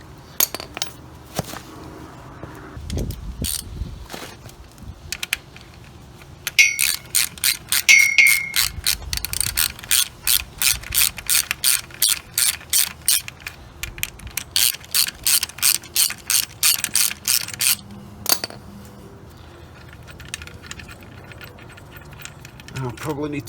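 A ratchet socket wrench clicks in long rapid runs while a fuel pump is installed on a 1936 Chevy coupe, steady close clicking with occasional pauses and clanks, with brief talk now and then.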